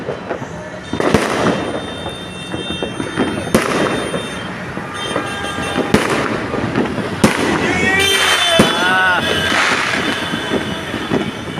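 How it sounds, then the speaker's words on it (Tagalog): New Year 2024 fireworks pop and crack at irregular intervals over a constant rumbling background, with some whistling streaks and voices in the mix. "Live fireworks ngayon."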